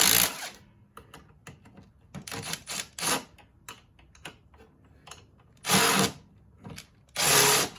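Bursts from a power tool driving bolts on the rubber paddles of a 21-inch Toro snow blower, several short whirs then two longer loud runs, close up with no talk.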